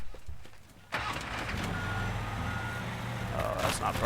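A truck in an escape video game backing up with steady repeating reversing beeps over a loud rumbling engine drone, close and continuous after a sudden start.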